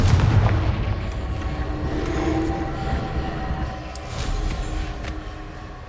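A Confringo spell explosion in the video game Hogwarts Legacy bursts as a loud, deep boom that rolls on into a long rumbling tail, fading slowly over several seconds with no talking.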